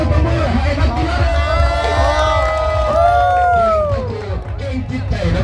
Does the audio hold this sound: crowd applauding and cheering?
yes